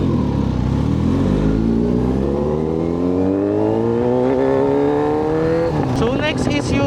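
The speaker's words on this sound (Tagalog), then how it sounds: "So under the tank, meron tong 948cc inline 4. So ito talaga yung boom yung tunog." A Kawasaki Z900RS with a 948cc inline-four engine accelerates, its loud, steady note rising in pitch for several seconds before shifting, with someone speaking over it.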